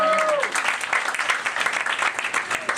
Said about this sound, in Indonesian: Yang sujud berikan tepuk tangan.